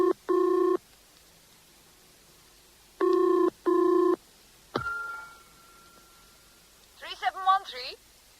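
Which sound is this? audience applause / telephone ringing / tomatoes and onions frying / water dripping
telephone ringing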